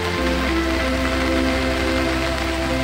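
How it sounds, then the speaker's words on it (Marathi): Heavy monsoon rain pours steadily in coastal Konkan at Bankot, a dense, continuous hiss and drumming with no gaps or talk, loud and close throughout. "खूप सारो पाऊस पडतो"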